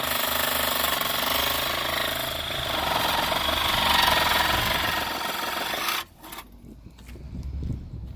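A Sawzall reciprocating saw cuts through metal on a car in a junkyard, a loud continuous harsh buzzing rasp that runs steadily for about six seconds and then stops, leaving quieter background noise.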